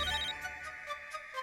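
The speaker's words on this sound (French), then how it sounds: "Comment mon téléphone peut-il sonner?" A mobile phone ringtone plays a repeating electronic melody, steady and fairly quiet, with no talk over it.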